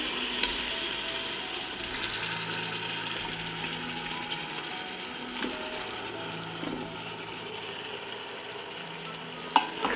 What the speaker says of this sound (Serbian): Na zagrejano ulje dodajem paradajz.